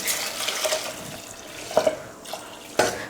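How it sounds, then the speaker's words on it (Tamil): Water is poured from a tap or jug into a pot of green gram curry seasoned with turmeric and salt, a quiet trickle and splash with brief louder gushes, recorded close in a home kitchen. "இப்போ தண்ணி ஊற்றிடலாம்."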